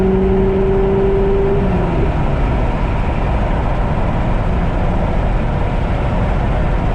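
A C7 Corvette with an AWE exhaust cruising in gear, heard from inside the car as a steady low engine drone and road roar, with a faint tone that drops away after about two seconds.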